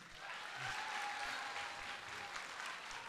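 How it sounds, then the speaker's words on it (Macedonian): An audience claps at an evening festival gathering, a dense, sustained round of applause with a faint steady tone beneath, heard for a few seconds without voices. "Ве молам за аплауз."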